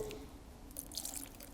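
Small splashes and drips of water going into thick tahini paste with white vinegar, quiet and close, a few light wet taps over a low background.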